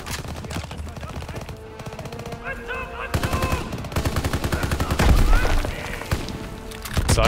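Sustained automatic weapon fire with heavier booms in the World War II shooter Call of Duty: WWII, loud and continuous rattling bursts that build in intensity toward the end.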